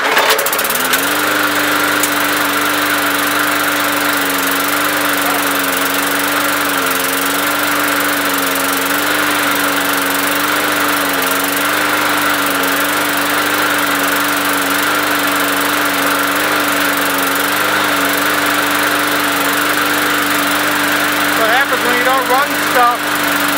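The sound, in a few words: basic push lawn mower engine running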